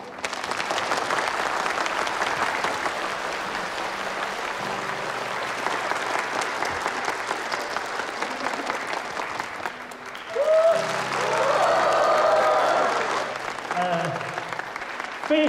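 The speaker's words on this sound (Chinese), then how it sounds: "你们的掌声就是对我们最大的肯定" A live audience applauds after a stage performance, with steady, dense clapping filling the hall throughout and briefly swelling louder near the end.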